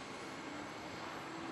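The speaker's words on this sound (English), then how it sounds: "So we've got 4 boats underway, 2 of them on the course and running." Hydroplane racing boat engines running on a race course, a steady distant roaring drone with no breaks, heard alone without talk.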